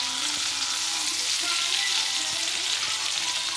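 Pork chops fry in a pan over a low flame, giving a steady, close hiss of sizzling fat with faint stirring clinks and no talk.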